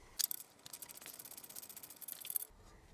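A hand ratchet undoes the upper strut bolts on a 1997 Toyota RAV4, giving a fast, even train of sharp clicking pawl ticks for about two seconds, close and alone, then it stops.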